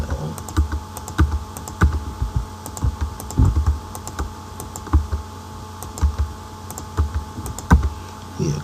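Steady typing on a computer keyboard while entering values into a Java NetBeans program, crisp close key clicks in quick irregular bursts with short pauses between groups, no voices.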